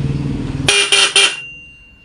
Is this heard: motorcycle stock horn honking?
yes